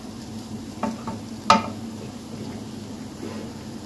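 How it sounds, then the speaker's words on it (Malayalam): Ginger, green chili and garlic being sautéed and stirred in a pan: a soft steady sizzle runs throughout, with a few spoon scrapes and one sharp clink near the middle. "പിന്നെ ഇഞ്ചിയുടെയും പച്ചമുളകിൻ്റെയും പിന്നെ വെളുത്തുള്ളിയുടെയൊക്കെ ഒരു പച്ചമണം മാറുന്നത് വരെ ഒന്ന് വഴറ്റി കൊടുക്കുക"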